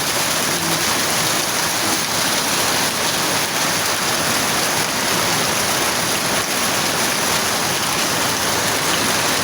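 Heavy rain pouring steadily onto surfaces around a house, a dense unbroken hiss and patter that holds at constant loudness throughout, with no voices.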